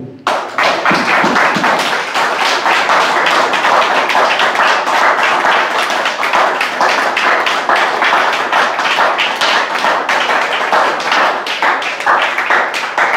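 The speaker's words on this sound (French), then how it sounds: "nous allons faire une ovation à notre Dieu" A church congregation gives a sustained ovation to God, many people clapping loudly and rhythmically in a steady, even beat that carries for the full stretch without pause.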